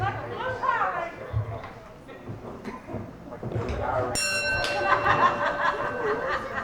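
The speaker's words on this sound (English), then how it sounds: "So let me ring the bell and get to start playing." A bell rings out sharply at a wrestling match, its bright, sustained tone cutting in over a chattering, laughing crowd and lingering as the noise continues beneath it.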